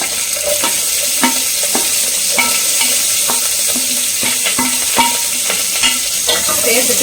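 Curry leaves and onion sautéing in a hot pan for a Tamil beetroot kootu, with a steady sizzle under repeated scraping stir strokes of a spatula, close and fairly loud, with a brief spoken word.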